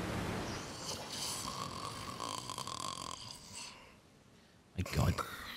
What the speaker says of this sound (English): Man just snores all the time.